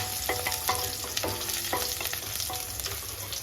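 Green chillies and crushed garlic fry in a pan, crackling and sizzling continuously while a spoon stirs with quick repeated scrapes close by.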